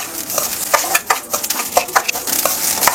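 Mustard seeds roast in a pan with a dense, crackling sizzle and scattered sharp pops, close and fairly loud, with no voices.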